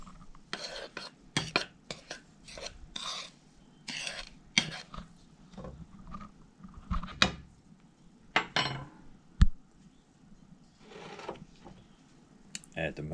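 A spoon stirs peanut butter bread ingredients in a bowl, with irregular scraping clinks against the side in close, fairly quiet bursts, plus a brief cough or throat clearing.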